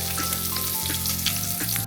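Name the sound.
stir-frying five-finger peach root until fragrant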